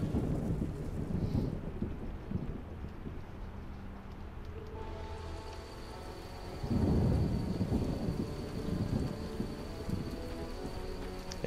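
Rain and rolling thunder from the video game The Witcher, a loud continuous storm with deep rumbles swelling about two-thirds of the way through under steady rainfall, with no talk.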